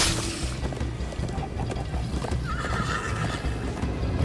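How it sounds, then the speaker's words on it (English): A Minecraft Story Mode horse whinnies loudly over rapid galloping hoofbeats, with a busy rumbling backdrop and no talking. "First time on a horse here!"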